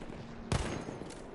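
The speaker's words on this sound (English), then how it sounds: "Alright, I'll use the cover fire." A single sharp burst of video-game gunfire used as cover fire cuts in partway through, loud against a steady hum of background game noise.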